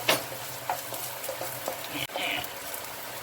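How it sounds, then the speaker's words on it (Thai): Garlic stir-fries in hot oil for Chinese kale with canned fish, a close, steady sizzle broken by scraping spatula strokes and light clinks against the pan, with no voices. "แอบใส่กระเทียมลงไปเลย ผัดให้เหลืองนะคะให้หอมเลยนะคะ"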